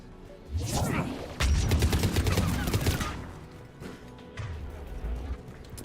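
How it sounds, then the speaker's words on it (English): Anti-aircraft guns fire in Mass Effect 3, loud dense bursts of rapid booming shots rolling together over about two seconds, then a quieter rumbling barrage continues afterward. "AA guns ahead of us."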